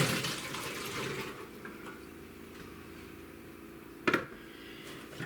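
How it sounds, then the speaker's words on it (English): Water from a pot of boiled potatoes pours and gushes through a strainer in a kitchen, a loud rushing flow at first that settles into a steady softer trickle, with a brief clatter near the end and no talking. "Let's strain off our taters."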